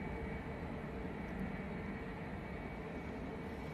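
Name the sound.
Boeing 757 airliner taxiing at Manchester Airport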